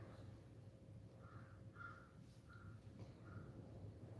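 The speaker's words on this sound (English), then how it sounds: "Crows are flying." Crows cawing outdoors, about four short harsh calls at an even spacing, faint and distant over a low background rumble.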